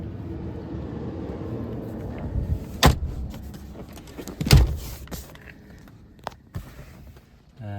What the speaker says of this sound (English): That's a power folding third row.